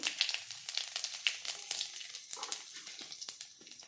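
Cumin seeds and whole garam masala spices crackle and sizzle softly in hot ghee for a vegetable pulao, a faint steady frying hiss with small pops.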